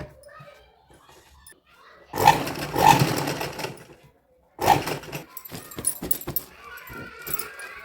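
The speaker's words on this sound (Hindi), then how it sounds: "अब हम इसमें सिलाई लगा लेंगे।" A sewing machine stitches elastic into the waistband of a baby girl's dhoti in two short bursts of rapid whirring, with someone talking quietly before and after the stitching.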